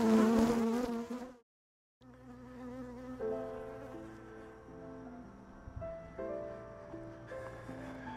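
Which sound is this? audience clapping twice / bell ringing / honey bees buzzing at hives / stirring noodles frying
honey bees buzzing at hives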